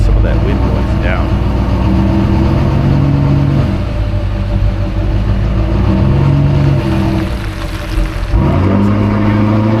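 A big blue GMC truck's engine drones steadily while driving, a low harmonic rumble mixed with constant wind buffeting, briefly easing before climbing again near the end.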